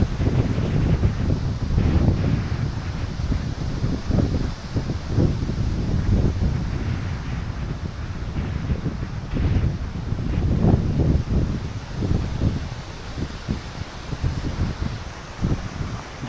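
Gusty wind roars across the microphone in uneven surges, a loud constant rumble with rustling bursts and no voices.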